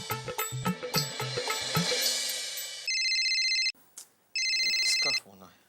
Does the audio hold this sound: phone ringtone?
yes